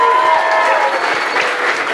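A music-school masterclass audience applauds the band with dense, continuous clapping that stays loud and close for the whole moment.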